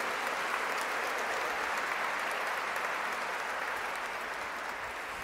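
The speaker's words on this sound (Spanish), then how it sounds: "Démosle un aplauso bien fuerte a todos ellos." A church congregation at Sunday Mass gives loud, sustained applause, a thick even roar of clapping that fades only slightly toward the end, with no speech over it.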